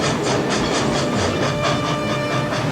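Steam locomotive running on rails from the 1885 setting of Back to the Future Part III, a steady rhythmic clatter of wheels over track with hissing steam, loud and continuous with no voices.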